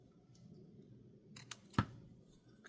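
Scissors snip through craft embellishments for an autumn junk journal, giving a few quick, crisp cuts near the end after a quiet stretch of low room noise.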